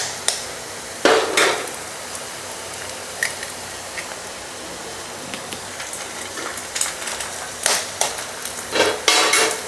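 Four eggs go into sautéed onions frying in a pan, a soft sizzle broken by scattered sharp scrapes and knocks of a spatula, with the clatter growing busier near the end.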